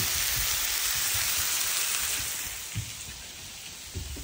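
Constant dense hiss of lamb chops sizzling on a hot grill plate at a braai, loud and close, with a few soft knocks underneath.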